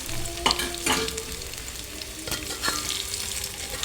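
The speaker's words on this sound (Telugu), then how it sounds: "ఆలు పచ్చి వాసన పోయే వరకు వేగాలి" Potato pieces fry in hot oil for a curry, a loud continuous sizzle punctuated by several sharp stirring scrapes of a spoon against the pan, with no voices.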